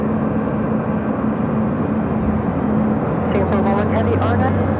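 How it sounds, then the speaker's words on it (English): An airliner taking off from runway 24 left on the north side of Los Angeles International Airport, its broad jet roar steady and loud throughout, with a voice briefly talking over it near the end. "Our next takeoff here on the north side of LAX, 24 left."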